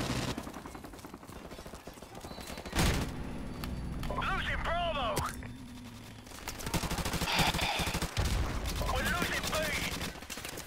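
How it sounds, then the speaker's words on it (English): Gunfire in the video game Call of Duty 4 comes in scattered bursts of shots and sharp impacts over a busy game mix, with a player talking over much of it. "They're just randomly shooting through crates,"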